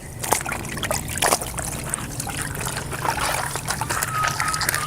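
Water trickles and drips softly as a chamois is dipped and soaked in a pan, with faint splashes and small sloshing sounds close by.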